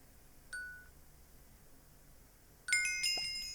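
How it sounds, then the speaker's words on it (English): A bright bell chime sounds in a Minecraft Bedrock custom crafting system, first as a single brief ding, then as a louder layered ringing that decays over the final second. "when I look straight up, you'll hear a bell sound"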